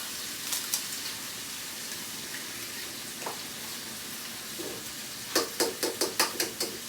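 Steady hissing sizzle of an egg frying in a wok, with a quick series of sharp metallic scrapes near the end.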